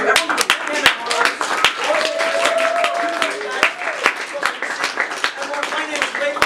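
An audience applauds at a magic camp show, with dense, continuous clapping close by and voices and cheers mixed in throughout.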